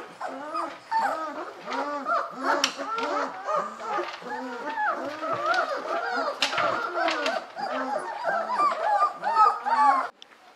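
Several 24-day-old puppies whimper and squeal continuously up close, their high, wavering cries overlapping in a busy chorus.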